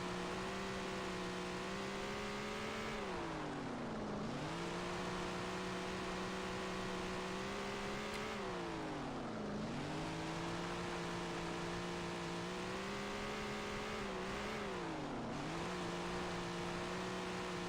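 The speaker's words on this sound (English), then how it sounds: "You can hear I'm playing with the throttle a lot" A late model race car engine in Tony Stewart's All-American Racing at Baxterville drones steadily and loud, dipping and swelling three times as the throttle is eased off and reapplied, with no voices over it.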